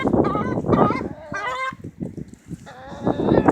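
Ornamental chickens being fed cluck and squawk up close in a busy, overlapping flurry of calls, loud and restless throughout.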